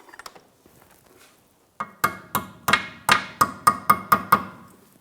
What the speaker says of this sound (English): Might have to use a hammer, just give it a tap.